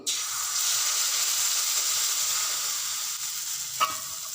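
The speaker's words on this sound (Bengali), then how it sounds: "আমি গ্যাসে কড়াই বসিয়ে তাতে মাঝখান দিয়ে একটু তেল ব্রাশ করে নেব এবার আমি চিতল পিঠার ব্যাটারটা দিয়ে দেবো" Chitoi pitha rice batter hitting a hot, lightly oiled karahi, a sudden onset followed by a steady hissing sizzle that fades slightly, with a single small knock near the end.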